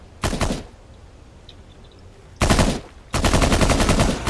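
Rapid automatic gunfire in a video game: a short burst, a pause, then two longer loud bursts of rattling shots close by.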